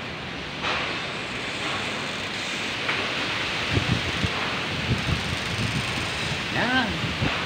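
Strong wind gusts roar and rustle outdoors, a broad steady hiss with buffeting bursts against the microphone, while voices talk faintly underneath.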